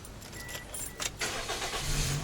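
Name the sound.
car engine starting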